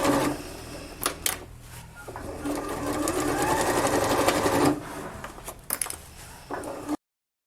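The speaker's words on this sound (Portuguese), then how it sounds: "fazer uma costurinha com um pé de máquina em toda a volta aqui dessa boca da bolsa" A sewing machine whirs steadily as it stitches around the opening of a women's handbag, running in long continuous stretches broken by brief pauses and small clicks, close and clear.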